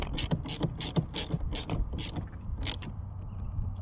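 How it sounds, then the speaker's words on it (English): A hand ratchet tightening a bolt on a 2014 Mercedes C300, giving a series of quick clicking strokes close up in an irregular rhythm that stop after about three seconds, with no talking. "Let's tighten this back up."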